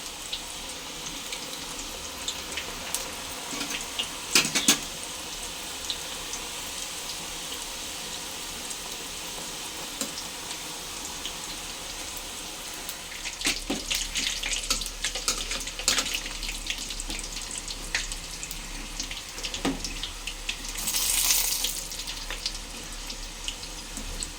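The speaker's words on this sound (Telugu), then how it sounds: "ఇప్పుడు మిగతాయి కూడా వేసేసుకుని ఫ్రై చేసేసుకుందాం అలా నూనెలో వేయగానే చక్కగా విచ్చుకుంటాయి" Jackfruit pieces deep-fry in oil with a continuous, dense bubbling hiss over a low background hum. The sound stays close and fairly even, with a few louder crackling surges and sharp clatters from utensils.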